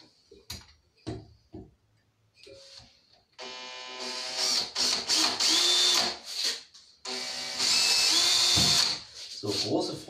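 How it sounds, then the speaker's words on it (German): A power drill whines in two long bursts drilling into a curved metal surface, with high screeching, separated by brief pauses and a few clicks and knocks beforehand. "Bohren auf gewölbter Oberfläche"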